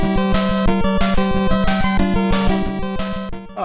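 Chiptune music from the NES game Double Dragon running in the Nestopia emulator, with a steady pulsing bass line, bright square-wave melody and rhythmic noise-channel percussion, loud and continuous with no talk.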